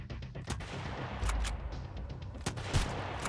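Gunfire in the Sunkenland survival game, a burst of several quick shots followed by a couple of isolated louder cracks, fairly close over low background noise.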